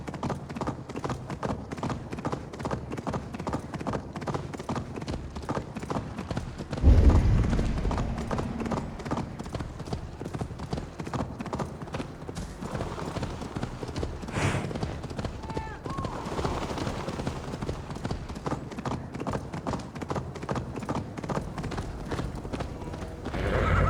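A horse gallops in Assassin's Creed Valhalla with rapid, even hoofbeats that run throughout. A neigh comes in partway through, voices talk over the galloping at times, and a brief louder thump sounds near the seven-second mark.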